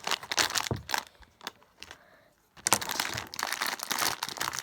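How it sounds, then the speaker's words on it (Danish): Candy packets being torn open and crinkled at close range: loud bursts of plastic crackling and rustling, a short quieter pause, then more steady crumpling, with no talk. "Jeg tror lige, at jeg bare lige åbner for alle pakker"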